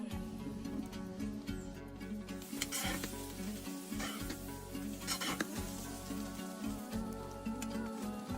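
Lamb lung and liver kuyrdak frying in a kazan, a dense continuous sizzle with crackling spatters and occasional stirring scrapes, close and steady with no talking.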